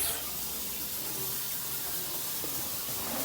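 Tap water runs steadily over dried chilies, a dense and even hiss with no pauses or speech.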